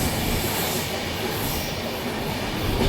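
A train rushes fast past the waterways near Munroe Island railway station in Kerala, a loud, dense roar of wheels and carriages that stays steady throughout.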